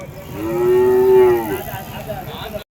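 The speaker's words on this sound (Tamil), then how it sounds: "ஸோ 2 எரம கண்ணு குட்டிங்க இருக்குது." Buffalo calves at a cattle market in Uthangarai let out one long, loud moo that swells and then fades, with crowd murmur in the background.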